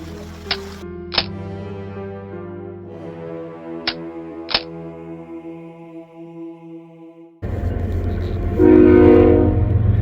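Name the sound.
train passing by campsite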